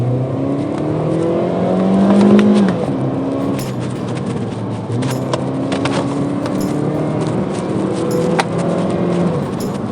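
A 2015 Honda Brio's engine pulls hard from first gear, revving up loudly with rising pitch, dropping briefly at a shift, then climbing again steadily, heard from inside the car with no talking.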